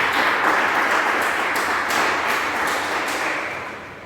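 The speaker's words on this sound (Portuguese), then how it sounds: "Vamos aplaudir o nome de Jesus." A church congregation claps together in a dense, loud burst of applause that holds steady, then gradually thins and fades.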